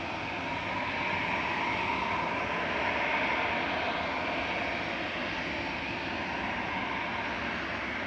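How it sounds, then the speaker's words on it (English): A 15-year-old Airbus A330-300 arriving from JFK at Manchester Airport gives off a steady, dense engine roar at moderate distance, holding even for several seconds with no speech. "That's GEIDY coming in. From JFK. It's a 15-year-old A330-300."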